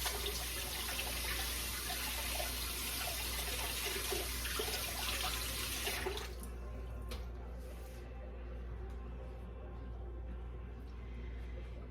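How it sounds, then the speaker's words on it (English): Steady rush of tap water running over hands being rinsed in a kitchen sink while a cheesecake dump cake is made. The flow cuts off halfway through, leaving a few drips and soft handling sounds over a low hum. "Let me rinse my hands."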